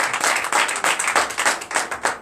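Congregation clapping in rhythm during a church service in Comè, Benin, steady loud handclaps with a regular beat filling the whole stretch.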